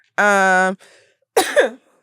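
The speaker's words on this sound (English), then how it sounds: "That was a cough." A single harsh cough bursts out close by, followed by a short throaty vocal sound; no other noise around it.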